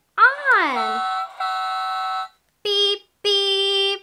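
A toddler's electronic toy, just switched on, gives a loud swooping tone followed by three steady electronic beeps of varying length, separated by short gaps.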